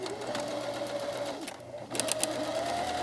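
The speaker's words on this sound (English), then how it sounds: "So what we're going to do is sew it." A sewing machine stitches a jacket sleeve lining in fast, continuous whirring runs, pausing briefly midway before starting again, heard up close without talk.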